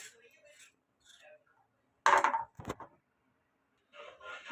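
A kitchen knife scraping the green skin off pointed gourds (potol), short rough scraping strokes up close, with bursts of speech in between.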